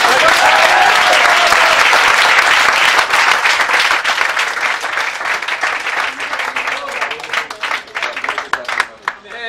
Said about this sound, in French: Et on applaudit là.